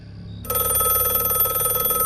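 A telephone bell rings loudly and steadily inside a wardrobe at night in a horror story, starting suddenly after a quiet moment and continuing as an unbroken trill.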